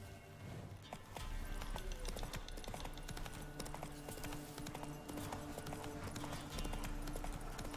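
Horse galloping in the video game Witcher 3, hooves clip-clopping in a fast, steady rhythm, close and continuous at moderate loudness.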